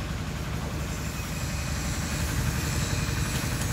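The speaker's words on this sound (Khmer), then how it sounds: "សម្លេងម៉ាស៊ីនដល់ហើយបងប្អូន" A steady, low engine rumble idles continuously at a constant level, with no voices present.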